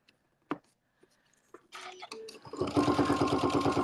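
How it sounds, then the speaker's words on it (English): A sewing machine stitches through vinyl for a panel bag. A few light taps and handling sounds come first, then a rapid, loud, even mechanical chatter of stitching takes over. "I'm just sewing like 1/8 of an inch through that vinyl from this direction"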